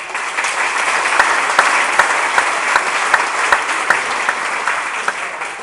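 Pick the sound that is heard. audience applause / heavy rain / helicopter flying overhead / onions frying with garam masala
audience applause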